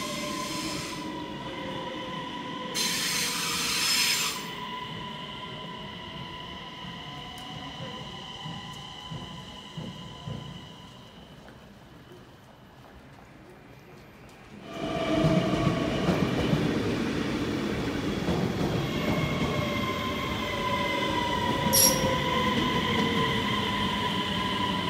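DSB Øresund train crossing the Øresund bridge: a continuous rolling rumble with wheel squeal and metallic tones, easing to a quieter stretch before surging louder again as the carriage rattles along, no voices.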